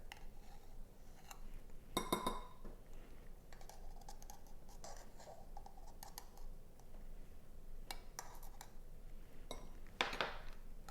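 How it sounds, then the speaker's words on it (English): A measuring spoon clinks against a bowl while baking powder is added, a few faint, light ticks and taps, the clearest near the start and again toward the end, in a quiet kitchen. "now we're going to put 1 3/4 teaspoon of baking powder"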